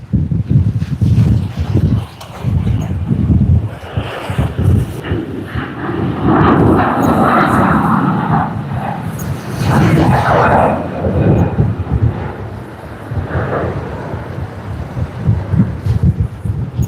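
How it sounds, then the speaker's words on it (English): A passenger airplane takes off at Sydney Airport, its jet engines producing a loud, sustained roar and rumble that swells and wavers throughout, mixed with gusty wind noise on the microphone. "It's really amazing to see the takeoff roll, and soon after takeoff then bank towards the right and make their way to the destination."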